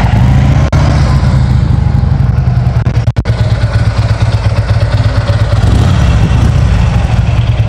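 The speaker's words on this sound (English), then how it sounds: "Let's go ahead and fire it up so you can listen to the exhaust." A 2016 Harley-Davidson Street Glide trike idles with a loud, close, throbbing V-twin exhaust pulse, steady throughout apart from a brief dip midway.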